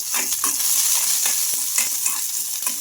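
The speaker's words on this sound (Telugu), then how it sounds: "ఇలా ఒకసారి మొత్తం బాగా కలిపేసుకుందాం కాస్త ఫ్రై అయిన తర్వాత" Curry leaves, garlic and ginger frying in a pan while being stirred, a steady close sizzle broken by repeated scraping strokes of the spoon, with no talking.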